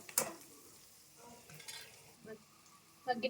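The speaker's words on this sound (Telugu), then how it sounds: "ఉల్లిపాయలు ఎర్రగా వేగనిద్దాం ఒక రెండు నిమిషాలు" Onions fry quietly in a pan with turmeric, giving a faint sizzle broken by occasional stirring scrapes and utensil clinks, soft and close.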